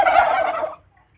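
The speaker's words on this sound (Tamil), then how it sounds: "வான்கோழி" A single loud, close gobble from a domestic turkey, a rapid rattling burst lasting under a second before cutting off into silence.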